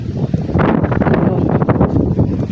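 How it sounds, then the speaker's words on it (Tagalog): Loud, blustery wind buffets the microphone in a continuous roar with gusty surges and no voices. "Mahangin."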